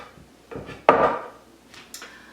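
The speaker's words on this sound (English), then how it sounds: "we're going to put them into our bowl." Cut plant-based snack pieces tumble into a bowl with a sharp clatter near the middle, followed by a few softer knocks and shuffles.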